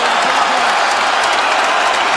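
An arena crowd at a UFC fight between Conor McGregor and Nate Diaz roars with steady, dense applause and cheering. The sound is loud and continuous throughout.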